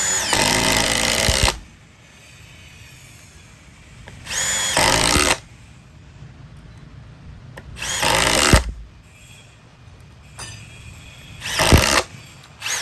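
A 2953-20 cordless screwdriver on fast mode 3 drives screws in four short, loud bursts of high whirring, each ending as the clutch cuts out, with quiet gaps between them.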